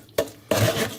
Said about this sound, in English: I'm going to give that a quick stir, just like this.